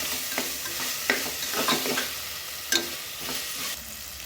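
Mushroom biryani masala fries in a pan with a steady soft sizzle, broken by occasional scraping strokes of a spoon stirring, close and moderately quiet with no talking.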